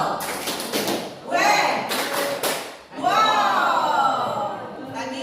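Children in a classroom perform a rhythmic 'tepuk wow' clapping chant, loud bursts of claps alternating with shouted chant syllables in a group.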